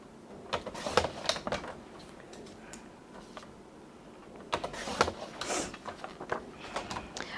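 Quarter-inch paper strips are cut for a craft background, heard as crisp, close cutting bursts in two quick clusters, fairly quiet with a soft gap between them.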